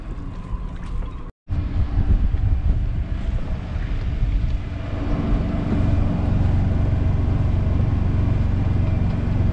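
Wind buffets the microphone on a boat heading out on its first trip around the marina harbour at Neustadt. The rough rumble is steady and loud, broken by a short dropout early on, and it builds a little stronger later.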